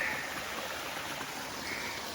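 Upper Wildcat Falls pouring over a rock face, a steady broadband rush of falling water that holds even and continuous at close range, with no voices.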